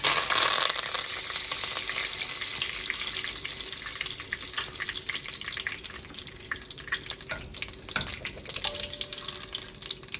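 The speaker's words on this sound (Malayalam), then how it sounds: "ഞാൻ അതിലേക്ക് 1 ടീസ്പൂൺ കടുക് ഇട്ട് കൊടുക്കുകയാണ്." Mustard seeds, fenugreek and curry leaves are dropped into hot oil for a Kerala-style fish curry. A loud sizzle bursts at first and then settles into sharp, irregular pops and crackles.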